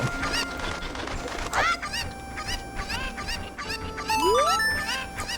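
Cucco chickens in the Kakariko village of The Legend of Zelda: Ocarina of Time clucking and squawking repeatedly, with chirpy rising calls in quick irregular bursts over game background sounds.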